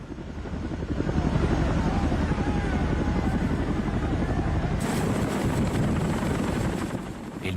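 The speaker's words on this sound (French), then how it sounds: "Ils me mettent dans l'hélicoptère." A helicopter during the Vietnam War, its engine and rotor drone steady and loud throughout, with the rotor sound sharpening partway through.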